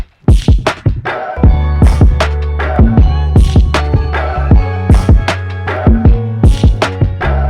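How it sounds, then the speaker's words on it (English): Drum pattern with an added percussion loop that has been manipulated and pitched, layered over steady kick and bass hits; a loud, repeating rhythmic groove with sharp transients and tonal percussive hits, no voices. "when I added this percussion loop that I manipulated and pitched"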